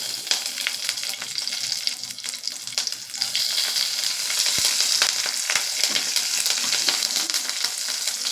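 Black cumin seeds and torn green chillies fry in hot oil in a pan, a dense, close crackling sizzle that holds steady and loud with no talking.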